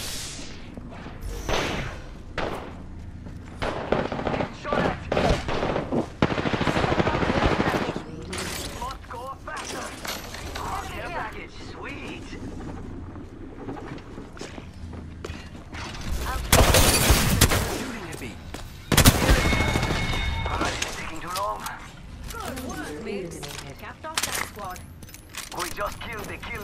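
Gunfire in the first-person shooter Apex Legends: bursts of shots and rapid automatic fire crackle through a busy, loud game mix, with sharper impacts and crashes standing out near the middle of the stretch.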